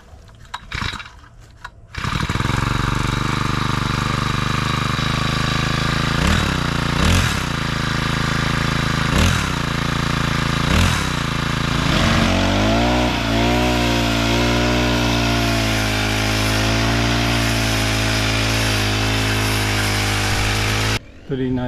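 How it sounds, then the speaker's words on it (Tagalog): A gasoline grass cutter engine on a farm, just repaired, starts up and runs loudly and close. It revs up in repeated surges, then settles into a steady drone that carries on for about twenty seconds. "Tuloy natin ang pag-grass cutter."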